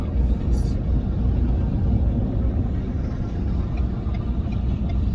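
Inside a 2022 Ford Maverick FX4 pickup accelerating on a road, a steady low engine and road rumble fills the cab at a fairly loud, even level throughout.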